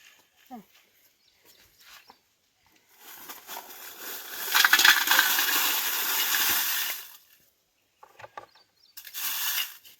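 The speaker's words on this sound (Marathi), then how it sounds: "आता ही आपण मिरची भाजून घ्यायची. आता ह्या मिरच्यांना हलवत राहायच्या." Green chillies roast and get stirred in an oiled pan while making homemade Malvani masala, giving a loud, steady scraping and sizzling rattle for a few seconds in the middle, with quieter clinks before and a short burst at the end.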